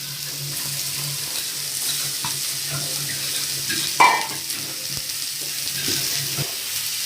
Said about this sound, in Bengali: আমি দুটো শুকনো লঙ্কা দিচ্ছি তেলের পরে, তারপরে আর সরিষা। সরষে ফোড়ন দিলাম।